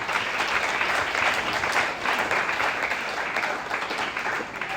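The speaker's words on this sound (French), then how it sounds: "Et nous acclamons la parole du Seigneur." A church congregation bursts into sustained applause, loud steady clapping filling the room for about five seconds with no talk over it.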